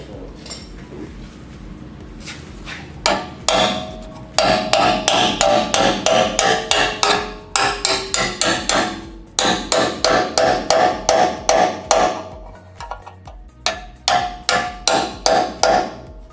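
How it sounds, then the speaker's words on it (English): A hammer drives a chisel to chip off a welded mounting point on the frame of a third-generation Toyota 4Runner. Loud, sharp metallic strikes come in rapid bursts with ringing clinks and short pauses between them. "Now he's going to kind of use the chisel and chip it off."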